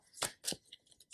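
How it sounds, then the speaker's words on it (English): Cards pulled from a tarot deck give two quick papery swipes close by, then a few faint soft flicks, with no talking. "a few more cards from another tarot deck"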